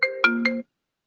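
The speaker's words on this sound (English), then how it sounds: "Somebody's phone ringing." A phone ringtone chiming during a county human relations commission meeting held online, a short bright melodic ring of three quick tones that cuts off abruptly, clear and close with no talk over it.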